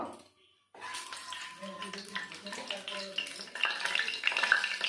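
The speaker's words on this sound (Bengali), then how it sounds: "আমি ওই তেলে আরেকটু তেল দিয়ে দেব, দিয়ে সোয়াবিনগুলো লাল লাল করে ভেজে নেব।" Soybean chunks frying in oil in a pan, a brief silence followed by rising crackle and sizzle with stirring clatter, while a voice talks over it.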